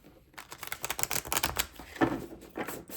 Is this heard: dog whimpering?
no